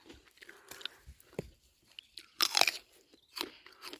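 Crisp bites into fresh apple picked in an orchard, a few sharp crunches followed by wet chewing, close to the mic, with no talk over them.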